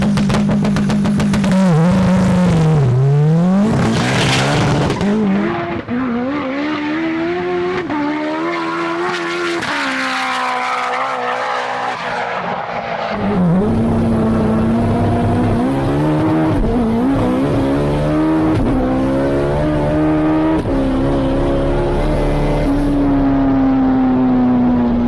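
Two-wheel-drive drag cars on drag radials launch down a runway at a drag battle, loud engines rising through repeated gear shifts with brief tire squeal, sustained and close throughout.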